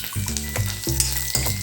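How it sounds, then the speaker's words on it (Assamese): Chopped onion hisses and sizzles in hot oil in a wok, a steady close frying crackle with a few soft scrapes or stirs, no voices. "এতিয়া তেল গৰম হ'ল, এটা সৰু চাইজৰ পিঁয়াজ দিম। এতিয়া অকণমান কালাৰ সলনি হোৱালৈ ভাজি ল'ম।"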